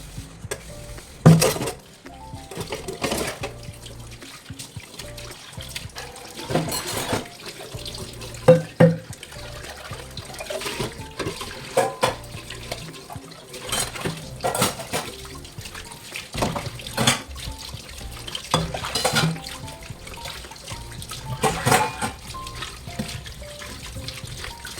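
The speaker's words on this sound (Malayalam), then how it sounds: "ഇപ്പോൾ ലാസ്റ്റ് വെച്ചിട്ട് നമ്മൾ ബ്രേക്ക്ഫാസ്റ്റ് കഴിച്ചതിൻ്റെ പാത്രം പിന്നെ പാല് തിളപ്പിച്ചതിൻ്റെ പാത്രം അങ്ങനെയൊക്കെ ഉള്ളൂ കേട്ടോ." Breakfast dishes and a pot used to boil milk are washed under a running tap in a kitchen sink: a steady trickle of water with irregular clinks and clatters of utensils throughout, close by and with no voices.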